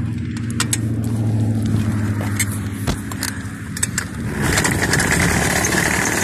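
Small weed eater engine mounted on a motorized bicycle sputters and catches while starting, a steady low motor drone building louder and rougher toward the end, with scattered rattles and clicks.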